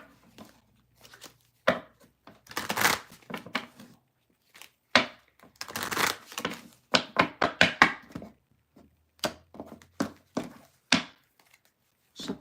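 A deck of tarot cards being shuffled up close, with irregular bursts of papery riffling and soft card slaps coming in short clusters separated by brief pauses; no talking.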